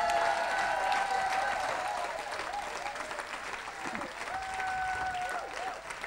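A church congregation applauds steadily throughout, a dense wash of clapping with a few raised voices and shouts carrying over it.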